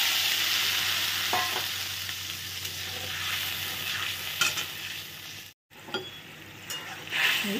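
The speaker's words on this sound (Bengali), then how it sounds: "এটা ভালো করে ভেজে নিলাম" A fennel, ginger and chili paste fries in a pan with a steady hiss, while a spoon stirs now and then with a few soft scrapes and a brief break near the end.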